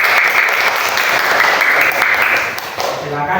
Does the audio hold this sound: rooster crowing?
no